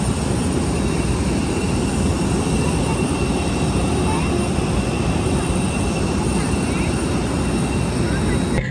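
A loud, steady jet engine roar fills the space, heard from inside the cabin as a constant low rumble with a high whine.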